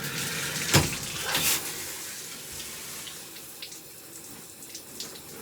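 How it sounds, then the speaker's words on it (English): Tap water runs steadily to rinse body scrub off skin, a close hiss of flowing water with a couple of splashy bursts early on, then softer continuous flow. "you want to turn back on the water and then wash off."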